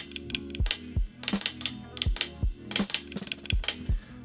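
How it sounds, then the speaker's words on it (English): An avant-garde hi-hat loop in a hip-hop beat, crisp clicky hat hits in an irregular repeating pattern over low pulsing bass and drum tones, clear and upfront with no voices. "Then you have this also avant-garde hat loop that sounds like this."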